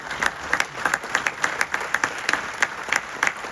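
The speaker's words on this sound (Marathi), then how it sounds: "जोरदार टाळ्या" A live audience claps after a Dashavatar folk theatre performance in Pune, with sparse, separate handclaps rising over a steady murmur of applause at moderate loudness and no talk.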